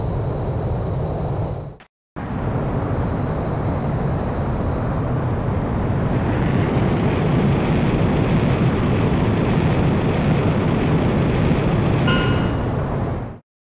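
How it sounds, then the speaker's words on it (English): A fighter jet takes off in the video game Ace Combat X: Skies of Deception, with a loud, steady engine roar that briefly drops out, then swells and rises in pitch as thrust builds, and no talk. "you are cleared for takeoff"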